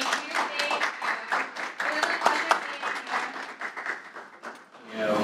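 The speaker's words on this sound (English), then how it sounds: "How about a round of applause for Gina?" Sustained applause from a crowd, many hands clapping steadily for several seconds, fading near the end.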